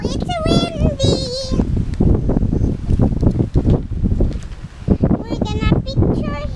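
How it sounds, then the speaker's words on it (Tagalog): Wind gusting steadily across an open highland campsite in Tanay, rushing against the microphone, with voices talking intermittently over it. "it's windy"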